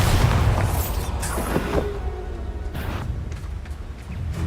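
A Bombarda spell blast in Hogwarts Legacy: a loud, sustained boom rolls on with rumbling debris and crackle, with short sharp bursts in the middle, over steady game ambience.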